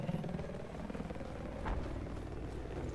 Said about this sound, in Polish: helikopter nad wami